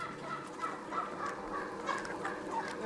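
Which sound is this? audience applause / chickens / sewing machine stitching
chickens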